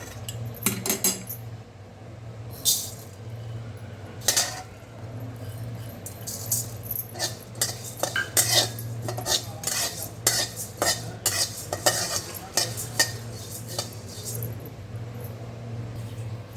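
Coriander and cumin seeds dry-roast in a pan while a metal spoon stirs them. Frequent scraping clinks and rattles sound against a low, steady hum, with no talking.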